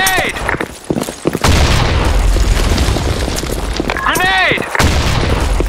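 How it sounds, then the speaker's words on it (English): A grenade explodes in a video game, a loud close boom that rolls into a sustained rumbling blast, with shouted voices and game effects around it. "Grenade!"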